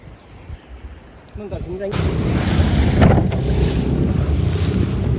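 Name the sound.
rough sea waves and wind around a fishing boat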